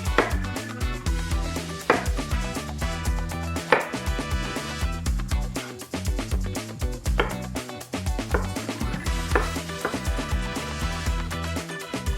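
A knife chops red pepper and watermelon on a cutting board while preparing watermelon gazpacho, giving loud, rapid, steady rhythmic thuds with occasional pauses, close up and with no voices.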